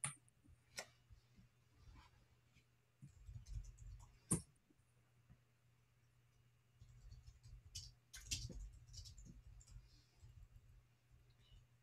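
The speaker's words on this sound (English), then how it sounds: "I'm just typing in the notes." Typing on a computer keyboard during an online working-group meeting, scattered bursts of faint clicking keys with pauses between them, heard alone over a quiet background.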